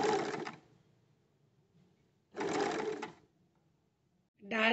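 A home sewing machine running a darning stitch with a darning foot, in two distinct whirring bursts of rapid needle stitching separated by quiet pauses, with a third burst starting at the end, close and clear.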